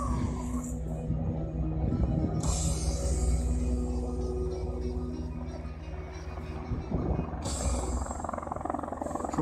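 A Tigre attack helicopter flying manoeuvres at an air show, its rotor thrum steady and fairly close for the whole stretch, swelling at moments, with spectators talking nearby.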